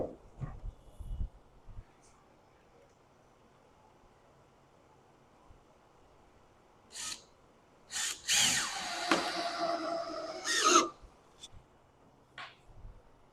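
A power drill drives two-inch screws into a wooden picket fence section, with short whirring bursts around 7 and 8 seconds and a longer, louder run near 8.5–11 seconds, nearby amid quiet outdoor background.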